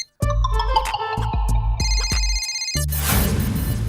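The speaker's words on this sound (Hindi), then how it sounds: "मेहता का फोन" An electronic mobile phone ringtone plays a rapid, repeating melodic pattern, loud and close, then gives way to a hissy burst of noise.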